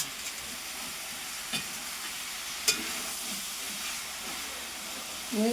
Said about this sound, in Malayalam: അപ്പൊ നമ്മള് ഇറച്ചി കൊടുത്തിട്ടുണ്ട് നമുക്ക് നന്നായി ഇളക്കി കൊടുക്കാം